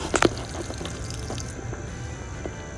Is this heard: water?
yes